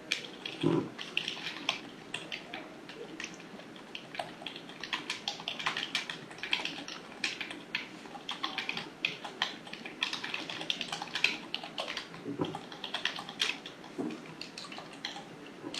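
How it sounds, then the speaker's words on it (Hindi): Typing on a computer keyboard while entering text in Adobe Illustrator CC 2018: a steady, continuous patter of close key clicks running throughout at moderate loudness, with no talking. "अब मैं यहाँ पे टाइप करता हूँ"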